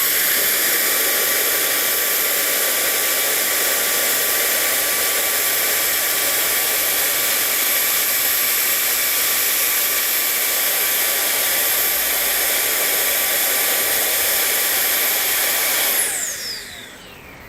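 A Milwaukee cordless leaf blower roars at full power with a steady, loud, breathy whoosh and a faint whine, then spins down near the end as it is switched off.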